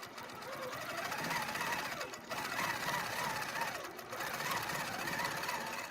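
A sewing machine runs steadily after its sew button is pressed, stitching a row in one continuous close mechanical whir. It pauses briefly twice and has no talk over it.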